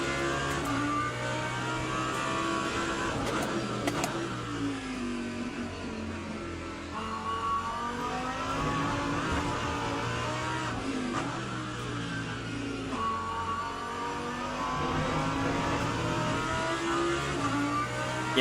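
Race car engine in the sim racing game Le Mans Ultimate at Sebring, on cold tyres and sliding: a loud, continuous engine drone that rises and falls steadily with throttle throughout, with no talk.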